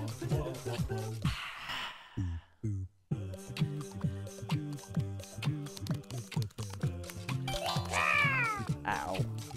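A cat meows repeatedly inside a video game, with drawn-out, wavering cries among busy game sounds and keyboard-like tapping, and a player's voice talking throughout.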